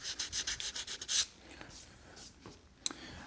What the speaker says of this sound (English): those are dry enough that I can go ahead and start sanding those